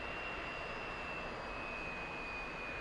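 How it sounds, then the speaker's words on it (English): A Su-27 fighter jet of the Ukrainian Air Force, powered by Saturn engines, gives off a loud, steady high-pitched whistle over a broad engine roar at an airshow training session in Kutaisi, with no voices. "And to hear that distinctive whistle from the Saturn engines."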